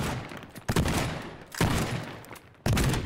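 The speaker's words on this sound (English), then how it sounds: "Oh, we got a shotgun." Shotgun blasts in the voxel demolition game Teardown, three heavy booming shots spaced about a second apart, each decaying into a long rumbling tail.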